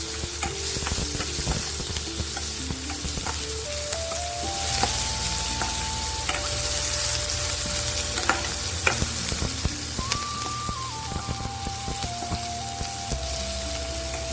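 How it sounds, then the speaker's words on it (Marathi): Onion sizzles steadily in hot oil with popped mustard seeds in a pan, continuous close frying hiss with frequent stirring scrapes, while a faint melodic tone runs in the background. "एक वाटीभर कांदा घेतला, तो चांगला परतून घ्या पहिल्यांदा."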